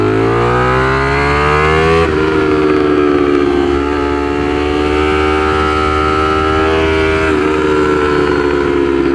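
A Ducati Streetfighter V4 motorcycle engine revs hard and loud, its V4 pitch climbing in a rising whine, shifting once and climbing again, then easing near the end.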